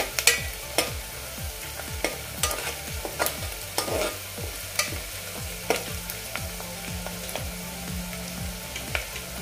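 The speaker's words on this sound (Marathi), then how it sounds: "या 2 लाल मिरच्या घेतल्यात मी तोडून। त्या थोड्याशा 1-2 मिनिटं आपण परतूया।" Onion and broken red chillies sauté in a hot pan, with a steady sizzle broken by repeated scraping and stirring strokes of a spoon at an uneven rhythm.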